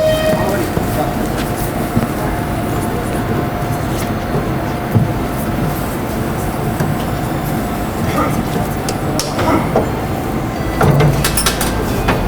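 A train at a station in Poltava gives a steady rumbling, clattering drone with occasional knocks and door-like thuds, while people talk nearby.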